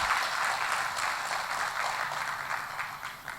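Audience applause at a Hindi motivational success-story event, a dense steady wash of many hands clapping at moderate distance, sustained without a break and no voices over it.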